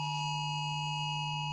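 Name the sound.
emergency weather alert tone on a phone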